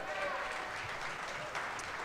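Audience applause at a live club event with a Packers Hall of Fame quarterback, a steady wash of clapping across the whole moment with some voices mixed in.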